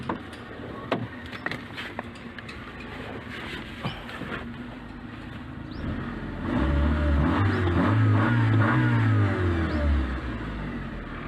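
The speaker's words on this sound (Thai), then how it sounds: "เดี๋ยวลองเร่งเครื่องให้ดูนะครับ" A Honda City automatic car engine idles roughly, then revs up into a loud sustained roar and eases back down, heard close with no talking.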